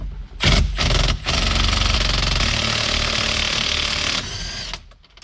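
Power tool whirring steadily for about three seconds as it removes a 21 mm nut from a Corvette steering wheel during a C6 ZR1 wheel swap, preceded by short bursts and ending in quieter clicks.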